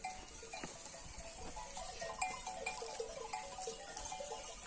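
Sheep and goats mill about in a pen with cowbells clinking in irregular bursts, quiet and somewhat distant, with scattered faint bleats and no talk.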